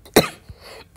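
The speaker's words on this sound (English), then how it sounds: "Look, I coughed." A single short, sharp cough sounds up close, followed by a faint second burst at the end.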